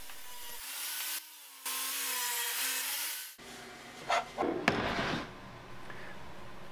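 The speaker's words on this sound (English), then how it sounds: "we can go back over to the table saw and turn the blade to 45 degrees" A table saw with its blade tilted to 45 degrees chamfers the edge of a pine plywood board: a loud steady whirring cut, a brief drop when the blade clears the wood, then lighter scraping and knocks.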